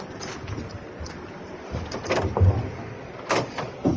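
A room door opens so a cat can go out, with a soft creak, a latch click and a few brief knocks, close by in a quiet room.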